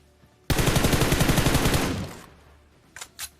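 An M416 rifle in a mobile shooter game fires one rapid, continuous burst of about 25 rounds that stops abruptly, then two brief clicks follow in otherwise quiet surroundings.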